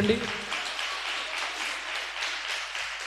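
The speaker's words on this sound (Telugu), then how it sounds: "గట్టిగా చప్పట్లు కొట్టండి." A church congregation applauding during a worship service: steady, dense clapping from a crowd that holds evenly for about three seconds.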